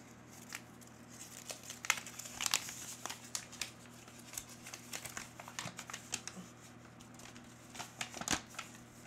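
Paper from a Dollar Tree Moj Sparkle Series pack crinkles and rustles as it is handled, with repeated close, sharp crackles spread across the clip.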